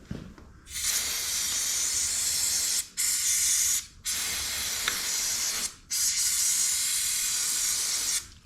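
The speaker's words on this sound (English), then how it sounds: "So, contact cleaner, not brake clean." Aerosol can of contact cleaner sprayed into a motorcycle part in three long, loud hissing bursts with short pauses between them, close up.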